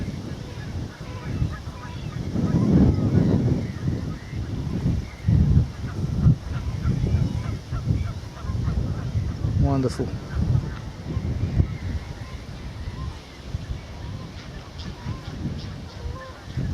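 Geese honk and other waterbirds call across an open wetland being restored near Islip, with wind buffeting the microphone and a person speaking briefly.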